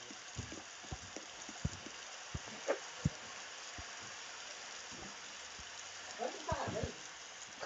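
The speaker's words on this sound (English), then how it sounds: "Because it's raining in Bloxburg." Rain in the game Bloxburg falls as a soft steady patter with scattered light drips and taps, fairly quiet and continuous throughout.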